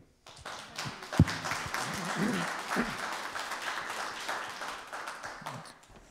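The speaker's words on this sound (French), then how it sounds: "On peut l'applaudir." Audience applause for a cardiology speaker at a Paris conference, a steady broadband roar of many hands clapping that swells quickly, holds for several seconds at moderate level, and carries on to the end with a few scattered voices mixed in.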